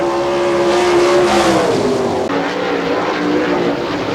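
A sprint car finishes a qualifying lap on the Hartford, Ohio dirt oval at an All Star Circuit of Champions event. The engine roars loudly and continuously, its pitch sliding down as the car passes and moves away.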